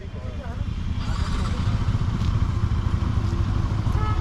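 A Royal Enfield GT650 motorcycle engine running on a rainy day, a steady low rumble that grows slightly louder as the bike pulls away, with faint crackle and clatter riding on top.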